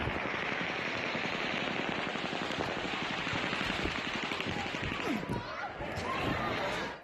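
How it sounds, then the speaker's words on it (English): Rapid, fully automatic weapon fire on a raw scene where people run for cover in a tent, a dense unbroken stream of shots lasting about seven seconds, loud and steady with no voices in the clip. "you can hear the gunfire going on there much faster than you can pull a trigger. This is a fully automatic weapon."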